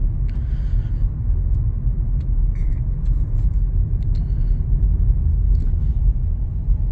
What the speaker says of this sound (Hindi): अभी मैं थ्रॉटल दे रहा हूँ, ये देखिए मैंने पूरा थ्रॉटल दबाया